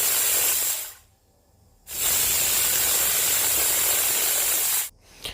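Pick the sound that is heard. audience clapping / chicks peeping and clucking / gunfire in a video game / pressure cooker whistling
pressure cooker whistling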